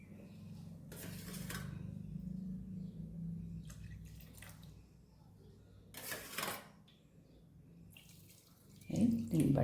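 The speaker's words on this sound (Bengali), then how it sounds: "এবার এখানে জল দেবো, কেমন। এই বাটি 3 বাটি জল দেবো" Water is poured from a bowl into a pot of mushroom soup in a few separate bursts of splashing and trickling, close and moderately loud, with quiet stretches of low hum between them.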